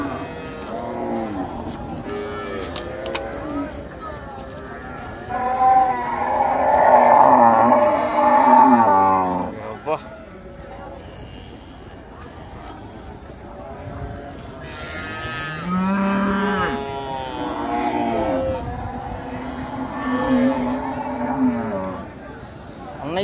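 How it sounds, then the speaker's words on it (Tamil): Jersey cows moo repeatedly in long, drawn-out calls at a large cattle market in Thennampalayam, Tiruppur, with other livestock and people talking around them. "இது ஜெர்சி மாடு."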